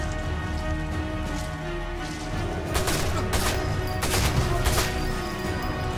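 Bursts of MP40 submachine gun fire in the Sniper Elite 4 video game crackle in several short volleys over a steady droning game background.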